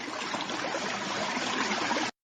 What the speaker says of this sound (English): it does sound like water dribbling